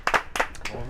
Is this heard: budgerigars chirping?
no